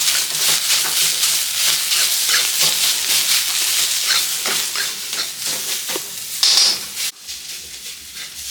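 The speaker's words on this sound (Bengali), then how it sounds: "একদম অল্প তেলে করব সিঙ্গারা পুরটা" Singara filling fries in a little oil with a loud, steady sizzle, broken by scraping stir strokes close up and a brief hiss near the end, with no talking.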